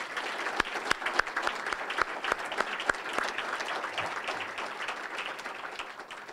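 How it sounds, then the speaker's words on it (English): A room of guests applauds at an honors recognition dinner, a dense, even clapping that holds steady for several seconds with a few sharper claps near the front. "Let's have a round of applause for these 5 people"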